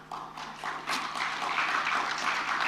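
Applause from an audience at an Indonesian book launch, starting as scattered separate claps and building into fuller, moderately loud clapping over a couple of seconds.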